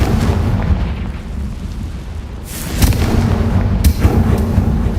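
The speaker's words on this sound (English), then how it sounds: "Confringo!" A Confringo explosion spell blasts in Hogwarts Legacy, a loud, dense rumble of booming explosions with sharp bursts near three and four seconds and no voices.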